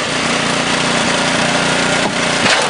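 The motor of a 1978 Maggio and Sons wood splitter runs steadily to keep its flywheels spinning, a loud, continuous engine drone that stays unbroken throughout.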